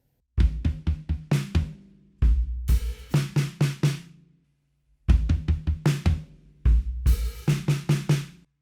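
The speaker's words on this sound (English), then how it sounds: "approach A with the paradiddle will sound like this" A drum kit plays a groove with paradiddle sticking: two repeated phrases of quick, punchy hits with bright cymbal crashes and short pauses between them, loud and close, no talking.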